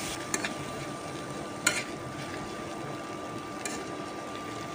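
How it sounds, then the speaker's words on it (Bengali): Chopped tomato being stir-fried with crumbled scrambled eggs, a soft, quiet sizzle with a few sharp spatula clicks against the pan, close and otherwise steady, with no talking. "এই পর্যায়ে দিয়ে দিচ্ছি টমেটো কুচি ভালোভাবে ডিমের সাথে মিক্স করে ভেজে নেব।"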